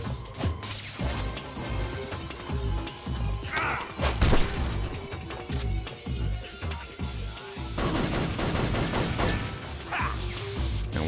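Gunfire in the video game Metal Gear Solid 3 sounds as repeated sharp shots and impacts mixed in with game music and effects, some bursts standing out louder than others across roughly eleven seconds.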